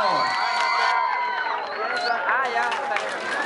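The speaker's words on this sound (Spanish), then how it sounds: "¡Fuerte el aplauso para ellos, por favor!" A crowd at a comics convention dance cover contest in Acapulco cheers and whoops for a winning dance group, loud shouting and chatter with scattered high-pitched screams throughout.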